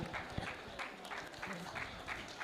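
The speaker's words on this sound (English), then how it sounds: "Let's give a round of applause to the Honorable." Audience applause follows a speech at an agroecology week event, a dense wash of clapping heard under a speaking voice.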